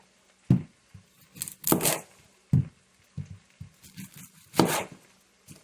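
An onion chopped on a cutting board with a knife, a series of irregular close, crisp chops with short pauses between them, no talking.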